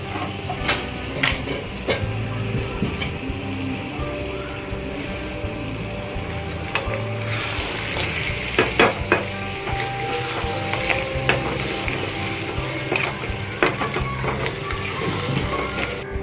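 Cleaned crabs stir-fry in hot oil for kharda chimbori, a continuous sizzle broken by clattering stirs and scraping clicks against the pan, close and moderately loud without talk.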